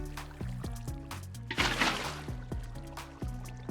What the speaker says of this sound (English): Lastly, go and add water on the outsides of this cross.